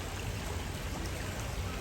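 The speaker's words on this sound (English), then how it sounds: "The water current is extremely rapid today." Rapid current of a salmon stream rushes steadily as a dense, even broadband wash of water, close and continuous with no voices.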